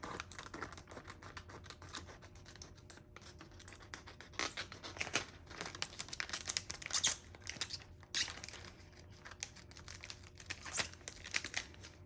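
Scissors snip through an infusible ink transfer sheet in a run of crisp cuts with light crinkling of the sheet, close and fairly quiet, no talk.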